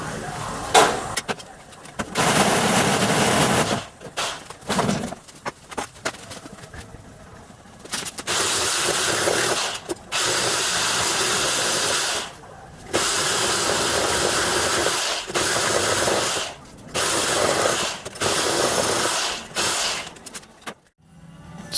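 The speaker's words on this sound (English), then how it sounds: "apparently they come out okay with a reciprocating saw" A reciprocating saw cuts out S13 subframe bushes in harsh, hissing bursts of several seconds each, broken by short pauses, loud and close.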